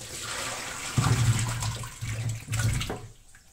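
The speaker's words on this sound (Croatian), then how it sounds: "evo ovako ćemo oprati šljive" Plums being washed by hand in a basin of water, with sloshing and splashing that comes in bursts and fades toward the end, close and fairly loud, with no speech.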